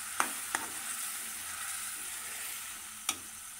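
Tomato paste cooking in a pan for a dhaba-style beef keema karahi, a soft continuous sizzle and bubbling hiss, with three sharp spoon knocks against the pan, close but fairly quiet.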